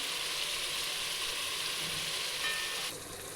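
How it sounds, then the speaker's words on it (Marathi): Eggplant pieces frying in a hot pan for a Maharashtrian vangi bhaji, a loud, dense, steady sizzle close by that drops off slightly near the end, with no talking. "आता आपण यात वांगे टाकू आपण सगळे वांगे यात टाकून द्यायचे"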